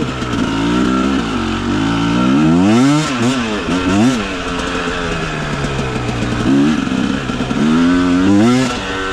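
A KOVI 300 Pro 2T two-stroke enduro motorcycle accelerating hard, its loud, buzzing engine rising and falling through sharp revving sweeps, close and continuous throughout.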